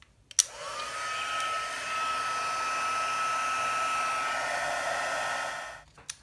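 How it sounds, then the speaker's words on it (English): A handheld craft heat tool blows hot air over a stamped card, starting with a click and then a steady, close, high-pitched whine for about five seconds before cutting off. "I'm going to bring in my heat tool, and I'm going to heat this."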